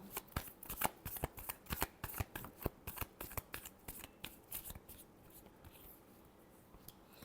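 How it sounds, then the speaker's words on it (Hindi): A large shuffle of tarot cards, heard as a quick run of crisp riffling snaps close by, steady at first and then thinning into softer sliding rustles, with no talking. "Large shuffle."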